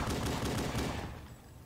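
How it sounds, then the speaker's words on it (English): Rapid bursts of automatic gunfire from Halo 5, steady and loud, fading slightly toward the end with no talking. "Just gonna ignore those gunshots I hear behind me"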